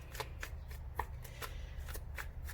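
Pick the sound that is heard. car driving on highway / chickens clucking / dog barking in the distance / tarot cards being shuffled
tarot cards being shuffled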